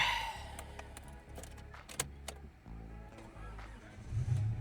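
A budget Honda Civic engine starting, a low cranking rumble settling into a rough idle with a few clicks and a rising rev near the end.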